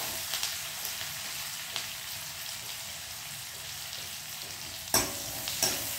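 Onions with turmeric sauté in a pan, a steady soft sizzle with faint stirring scrapes and a couple of sharper utensil clicks near the end, with no voices.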